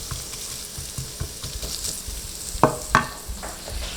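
Sausage filling for popiah spring rolls sizzles and fries in a pan, a steady close crackle broken by a few sharper spatters and stirring scrapes, with no voices.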